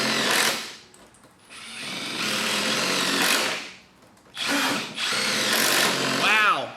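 Milwaukee M12 FUEL and M18 SURGE hydraulic impact drivers run fasteners into material in bursts of loud, close whirring and hammering separated by short pauses, with people talking and calling out between runs.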